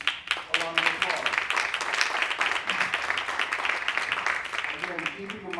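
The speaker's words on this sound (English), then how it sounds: "Let's give our students a round of applause." An audience claps for students at a school board meeting in a theater, with steady, fairly distant applause and cheering voices mixed in throughout.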